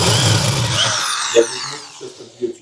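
Power tool driving a screw in and back out, a close whirring motor that winds down, followed by a few short, quieter bursts of the tool.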